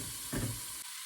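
Tomato puree cooking in a pot for a short rib bourguignon, a broadband sizzle and hiss with a brief louder burst of bubbling and stirring midway before it quiets.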